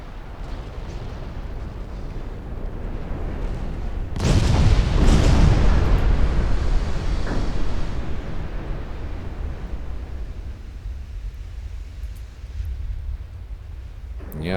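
Heavy 15-inch armor-piercing naval shells strike a cruiser in a warship battle game, a loud booming impact burst followed by a rumbling tail that slowly fades over steady background noise.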